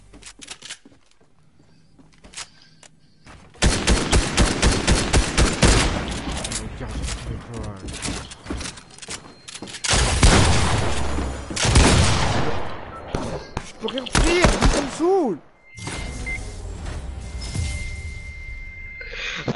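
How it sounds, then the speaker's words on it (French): A pistol fires repeatedly in a PS4 video game, with rapid volleys of sharp, close shots in several bursts separated by brief pauses, plus a few mechanical clicks. "Le pistolet."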